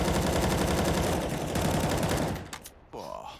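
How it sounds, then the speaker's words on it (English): Gatling gun fire in the video game Counter-Strike, a loud sustained rapid burst of shots that cuts off abruptly, followed by brief quieter game sounds. "Gatling guns there just through the Monster"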